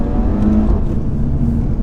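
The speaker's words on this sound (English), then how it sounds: "That gear shift noise is orgasmic" A car engine, a BMW M140i or Audi RS3, hums steadily at close range, its low drone holding under a faint whine, with a slight dip that could be a gear change.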